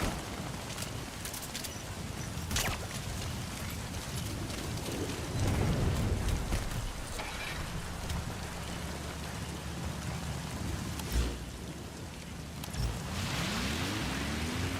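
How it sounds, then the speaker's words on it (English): Rain falling in the video game Metal Gear Solid V, a dense continuous patter with a low rumble swelling in places and a vehicle engine hum rising near the end. "I'm sure it'll stop raining eventually."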